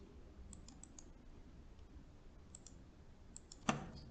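A computer mouse clicks and a keyboard is typed on, faint close taps scattered in small clusters, ending with one sharper click.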